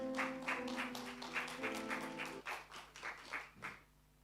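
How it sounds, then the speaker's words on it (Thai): Clapping from a welcoming audience at a Taiwan Excellence smart manufacturing product launch, a moderate burst of hands over a sustained musical tone that stops partway, with the clapping thinning and fading out. "ขอเสียงปรบมือต้อนรับค่ะ"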